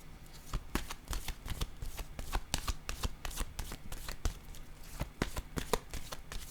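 Tarot cards are shuffled by hand in a rapid series of crisp riffling slaps and flicks with brief pauses, close and fairly quiet, without speech.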